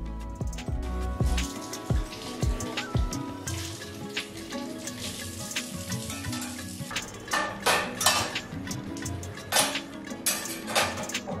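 Dishes and cooking pots washed in a sink, with running tap water, clanking metal and scraping of cutlery, close and continuous with irregular knocks.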